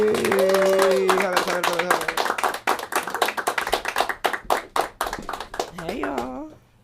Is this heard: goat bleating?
no